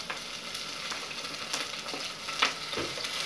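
Tomatoes sautéing in hot oil in a pan for kathirkai murungakkai kara kuzhambu, a steady close sizzle broken by a few sharper crackles and stirring scrapes, with no voices.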